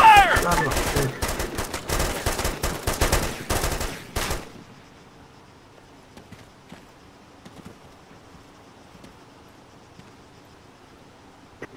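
Arma 3 military combat, with loud rapid automatic gunfire rattling close by for a few seconds, then cutting off to near silence broken by faint scattered distant shots.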